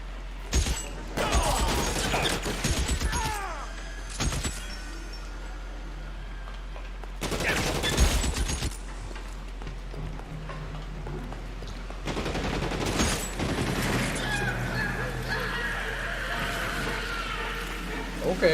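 Automatic rifle fire from a BAR in the L.A. Noire video game, with loud bursts of rapid shots in several clusters against game ambience, and a voice speaking in places.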